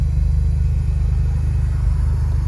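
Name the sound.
Ford Escort van driving on the road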